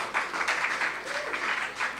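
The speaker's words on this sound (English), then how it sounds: "Let us give them a round of applause for the first part of this." An audience at a Lions Club school speaking contest applauds four secondary schools, steady clapping heard faintly from a distance with a slightly pulsing rhythm over two seconds.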